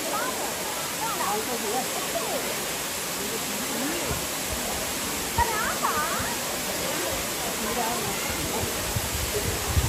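A waterfall near Kapila Theertham in Tirupati roars as a dense, continuous rush of falling water, loud and even from start to end, with faint voices now and then beneath it.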